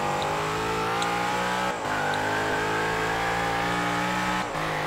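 Race car engine droning steadily at high revs through a lap of Mount Panorama in the Forza racing game, with a sustained loud harmonic whine and two brief dips where it shifts gear.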